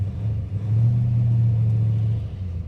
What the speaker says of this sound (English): you can see she idles with the best of them with a nice cami lopey idle